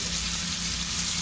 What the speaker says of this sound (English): So I'm just cooking this bacon down